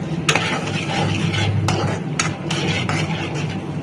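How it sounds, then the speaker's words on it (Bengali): Hot water poured into nearly fried spice paste for ghugni, stirred in a pan with scraping utensil clicks over a steady hiss; no talking. "এবার মশলার মধ্যে একটু গরম জল দিয়ে নেব।"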